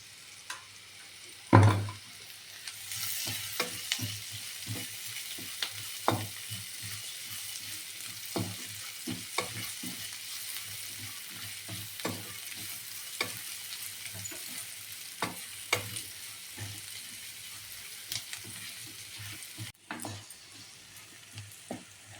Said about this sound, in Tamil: இப்போ வெங்காயம் வதக்கிடுச்சு.